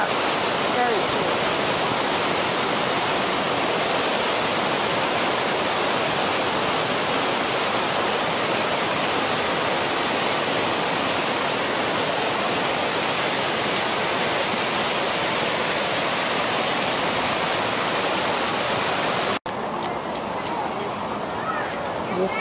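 A waterfall in the Columbia River Gorge roars as a dense, constant rush of falling water, loud and unbroken for the whole stretch, with a brief dip near the end.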